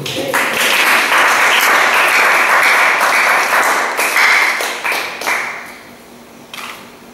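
Wedding guests at a church marriage ceremony burst into loud, close applause for the couple, holding strong for several seconds before tapering off into scattered claps.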